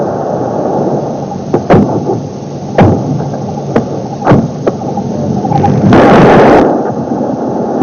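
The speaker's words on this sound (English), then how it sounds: "a barrage of artillery, mortars and small arms from the ground" Battlefield barrage of artillery, mortars and small arms fire, sharp repeated blasts and thuds over a constant rumbling roar, with a longer burst of noise near the end.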